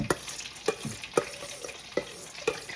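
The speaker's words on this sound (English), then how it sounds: "I'm gonna add my rice, parboiled rice." Parboiled rice being stirred in a pot, with a few distinct scrapes and knocks of the spoon at a steady rhythm, close and fairly quiet, with no talking.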